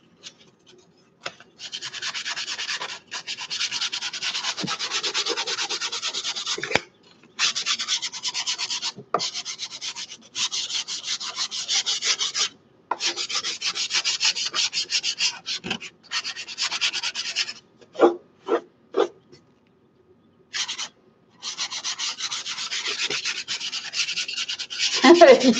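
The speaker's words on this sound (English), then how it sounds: "Now, once your panel is dry, and then we have to sand it again" Dry wood panel prepared with gesso for mixed media art, sanded by hand in long rhythmic scraping strokes, close and steady, broken by short pauses.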